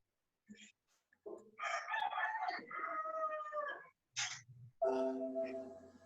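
A rooster crows in an indoor setting, several bursts spaced across the span, including a long drawn-out call near the end, moderately loud and close.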